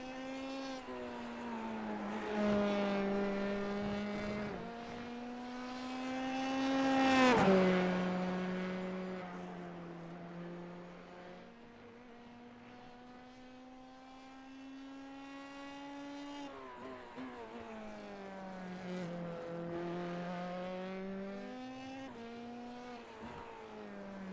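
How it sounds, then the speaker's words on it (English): A Formula 3 race car engine in a sim racing game at Hungaroring whines at high pitch, rising and falling as revs climb and then drop at the end of a lap, heard at a distance with a smooth, sustained tone. "Listen to how much the revs drop there at the end of the lap for Tobias Olsen."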